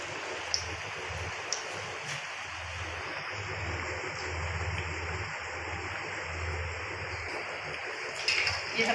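Potato donuts deep-frying in hot oil, a steady soft sizzling hiss that stays fairly quiet and continuous throughout, with faint background rumble.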